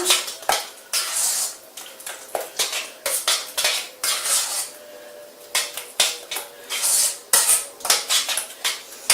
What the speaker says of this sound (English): Give it another good whisk round